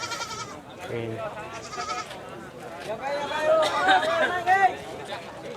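Goats bleat at Ngawu livestock market in Playen, Gunungkidul, Yogyakarta, several wavering cries rising above busy crowd chatter and nearby talk.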